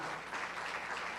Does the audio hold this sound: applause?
yes